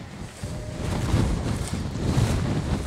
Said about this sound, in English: Oh, it's the wind!